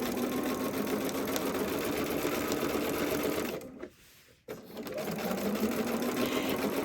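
A sewing machine runs a continuous straight stitch with a steady close whir, pauses briefly for about a second, then resumes at the same even speed.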